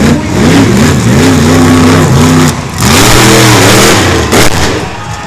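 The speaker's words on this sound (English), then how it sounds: "absolutely huge wheelie from BlockHead" Truck pulling vehicle's engine roars loud and close during a huge wheelie at the Outlaw Nationals truck pulls in Miami, Oklahoma, rising and falling in pitch through two sustained bursts with a short dip between.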